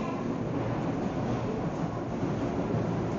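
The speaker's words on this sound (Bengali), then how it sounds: "ওই যে মেট্রো আসতেছে" A metro train pulls into a station, a steady, loud, broadband rumble and rush that holds evenly for the full three seconds with no voices.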